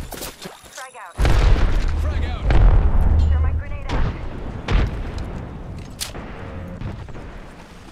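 A grenade goes off in a video game shooter: a sudden loud boom followed by scattered gunfire and smaller pops, with a player talking over the action.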